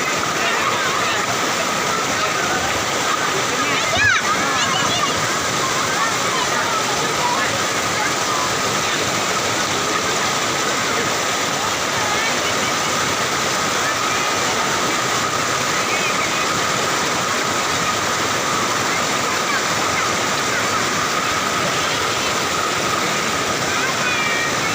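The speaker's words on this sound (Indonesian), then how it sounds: "Ke air terjun" Cigentis waterfall in Karawang roars as a constant, loud rush of falling water, filling the whole scene, with people occasionally talking under the steady wash.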